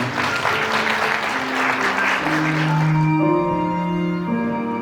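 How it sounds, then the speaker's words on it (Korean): Wedding guests clap together at a ceremony in a Seoul wedding hall, a dense, steady applause through the whole stretch, with sustained music notes rising underneath about halfway through. "축하의 의미를 담아 큰 박수 부탁드리겠습니다"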